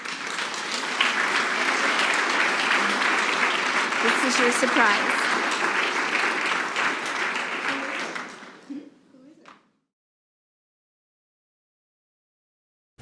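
Audience at a 2019 young concert artists gala in Washington, DC, applauds warmly for several seconds, steady clapping that fades out and drops to silence, with a voice speaking briefly at the start.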